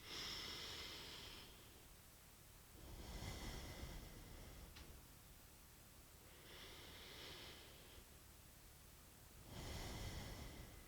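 Slow, deep breathing during a guided stretching class, with long airy inhales and exhales alternating in a steady rhythm, fairly close and moderately soft, with no talking.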